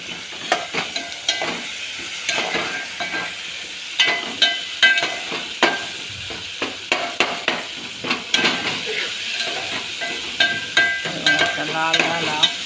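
Onion and tomato fry in a pan while a utensil stirs them continuously, sounding as frequent close scrapes and metal clinks over a constant sizzle. Nobody speaks.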